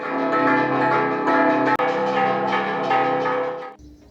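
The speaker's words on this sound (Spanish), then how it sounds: "hoy vamos a hablar de las campanas" Church bells ring loud and close in a rich, layered peal, several overlapping strikes sustaining and blending before the sound cuts off near the end.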